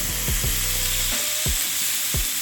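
A ribeye steak sizzles in a hot pan with a steady frying hiss, broken by several short scraping thuds as it is pushed and moved around.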